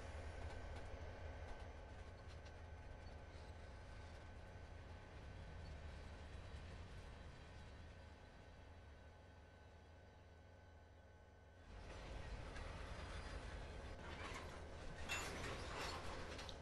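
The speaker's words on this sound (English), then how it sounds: "5 tank cars and a locomotive." Simulated locomotive hauling five tank cars on Sherman Hill in Train Sim 2016, a low, steady engine rumble with faint rail noise that dips midway and then picks up again, louder and brighter, near the end.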